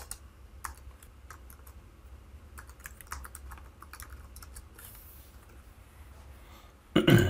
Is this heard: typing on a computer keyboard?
yes